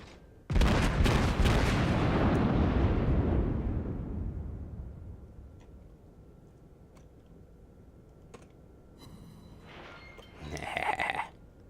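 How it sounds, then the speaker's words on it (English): A naval gun salvo fires at a Fuso battleship in a video game, a loud booming burst that rolls off over several seconds, followed by fainter clicks and a short later rumble. "A couple more shots about to come out."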